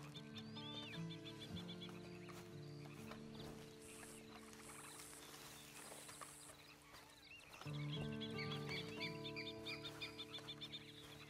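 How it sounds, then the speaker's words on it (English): Horse in the Western video game Red Dead Online, a whinny standing out over a steady game soundtrack with birdlike chirps, sustained tones and a swell near the end. "Then you better get on this horse."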